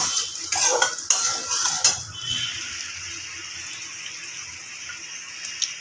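A spoon stirring in a metal pot while cooking masoor lentils, clinking scrapes and clatter in the first two seconds, then settling into a soft steady simmering hiss with a faint tap near the end.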